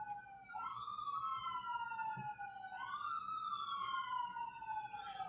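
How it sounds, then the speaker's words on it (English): A police siren wails in two rising-and-falling sweeps, loud and steady over a low background rumble, with no voices. "You hear the sirens?"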